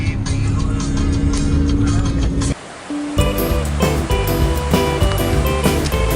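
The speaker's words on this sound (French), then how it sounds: "la cascade tombe sur la route même" Roadside waterfall on Réunion island pouring straight onto the road, a loud broad rushing roar of falling water that breaks off briefly mid-clip, then returns with passing traffic rumbling and tonal noise layered over it.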